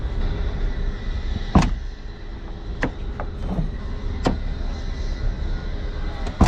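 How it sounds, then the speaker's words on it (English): Plastic clips and trim snap loose in sharp knocks while a car door panel is pried off in a junkyard, several distinct cracks and thuds spread over a steady outdoor background hum. "Let's take off this door panel."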